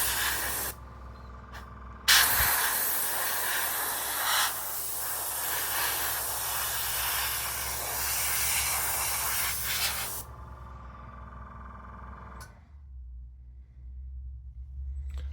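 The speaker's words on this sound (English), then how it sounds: "it's spraying beautifully" An airbrush sprays thinned MRP Aqua brass paint in a steady, close hiss for about eight seconds, ending abruptly, with a low hum from the compressor running throughout.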